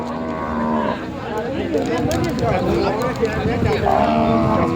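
Water buffalo bellow repeatedly at a crowded buffalo market in Yasothon, Thailand, as cows are sold away from their calves; long, loud moaning calls overlap throughout, with people talking and market clatter beneath.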